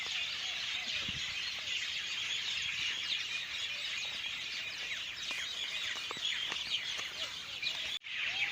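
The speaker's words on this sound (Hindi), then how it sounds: "ये जो परिंदे काफ़ी प्यारी आवाज़ होती है इनकी" Many birds chirp and tweet in a village at evening, a dense, continuous chorus of quick high calls at moderate distance, with no talk over it.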